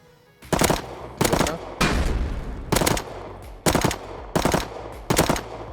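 Gunfire in the video game Rust: seven loud, sharp shots fired singly at uneven intervals about half a second to a second apart, each with a short ringing tail, faint talk underneath.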